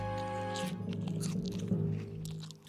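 A cartoon character munches a rain pear, making a steady, close, crunchy chewing sound over a sustained musical tone.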